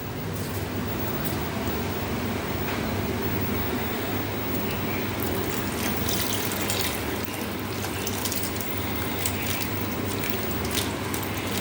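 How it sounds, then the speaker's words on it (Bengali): Packaged milk poured into a cooking pot that already holds water, for a Bengali malai shukto, giving a steady, close, continuous liquid rush with no talk. "এবার দুধের প্যাকেটটাও ঢেলে দিচ্ছি।"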